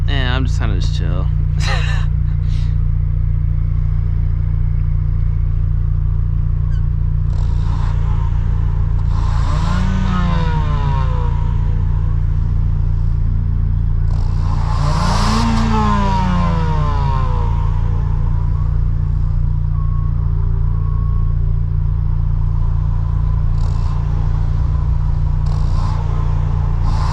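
A turbocharged Toyota GT86 cruises at night, its steady low engine drone filling the cabin with two brief rising whooshes of boost, while a person talks over it.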